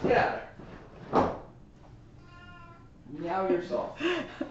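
A cat meows a few times up close, with bursts of people talking before and after the drawn-out meow.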